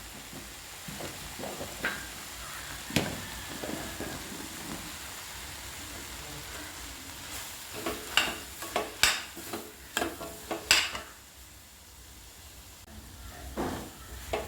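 A spoon stirs egg kuruma curry with zucchini and capsicum in a pan, producing irregular scraping clinks and soft sizzling, the scrapes growing sharper and more frequent midway before settling into quiet simmer.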